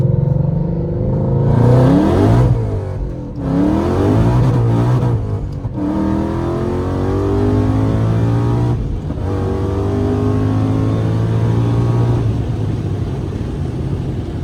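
A 2015 Ford Mustang GT with a Whipple supercharger roars loudly and close up under hard acceleration on a pull, its engine note climbing through several gear changes in a continuous, sustained blast.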